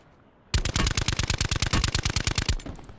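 Sustained automatic gunfire in the battle royale game Call of Duty Blackout, a loud, rapid burst of shots in quick rhythm after a brief quiet start, close and dominant with no talk.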